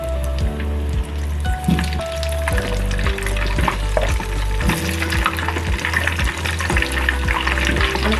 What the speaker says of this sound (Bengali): কড়া ভাজা হবে না, হালকা করে ভাজা হবে যেন কালারটা থাকে।